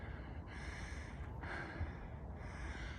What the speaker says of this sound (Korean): 제 숨소리가 너무 거치네요.